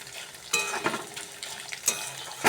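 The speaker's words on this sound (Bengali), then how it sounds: "চালটাকে একটু ভালো করে ভাজতে হবে।" Soaked rice stirred and frying in a pan, a soft steady sizzle with scraping stir strokes and light metallic clinks from a spatula, fairly close.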